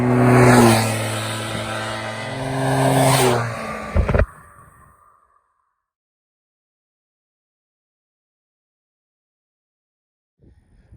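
A Honda FL400 Pilot's engine runs with a steady humming drone for a few seconds, then cuts off abruptly into near silence, with a faint stir near the very end.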